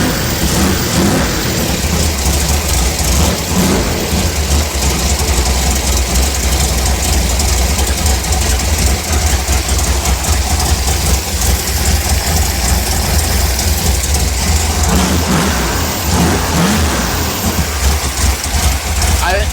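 A tuned 1955 Chevy engine idles steadily at close range, a loud, continuous low rumble with a slightly uneven beat, running without pause throughout.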